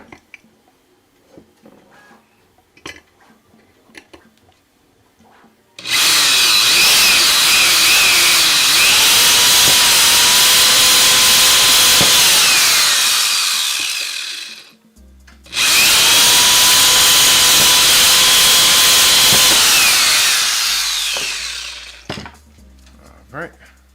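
A power drill runs loud and close in two long bursts, whining steadily as it bores through a 3D printer part, with a short pause between them and quiet handling before.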